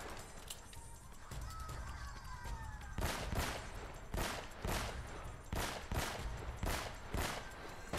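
Enemy gunfire in the Uncharted video game, played on Crushing difficulty, comes as a string of sharp, loud shots in uneven bursts after a quieter opening, with a voice speaking briefly.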